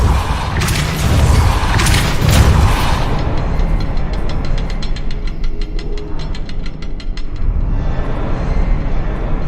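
A Depulso force spell is cast in Hogwarts Legacy: heavy booming blasts in the first few seconds, then a rapid rattling train of pulses that fades out, loud and close.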